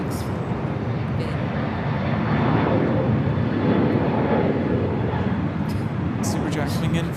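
A jet airliner on approach to land at LAX roars steadily and fairly loud for several seconds, a broad engine rumble with a brief swell in the middle.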